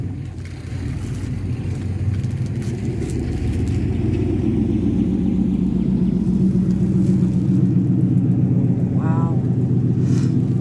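A car engine rumbles steadily at a backyard cookout, rising in level as the vehicle backs up and pulls away, with a low continuous drone and no sharp revving; voices chatter faintly underneath.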